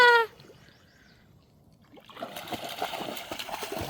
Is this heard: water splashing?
yes